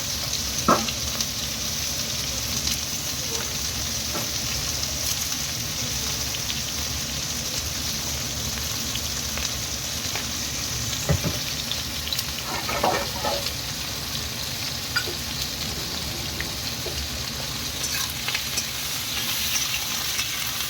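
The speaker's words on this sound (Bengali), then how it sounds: "ভেজে নেবো একটু উচ্ছে আলু ভাজা" Bitter gourd and potatoes with onion fry in a pan, a steady close sizzle running throughout with occasional clicks and scrapes of stirring, no voices.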